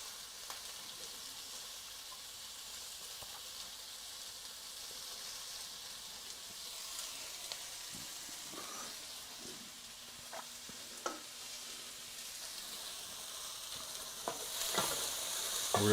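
Meat searing and roasting in a pan, a quiet continuous sizzle with occasional soft clicks and stirring scrapes, growing slightly louder toward the end, no talking.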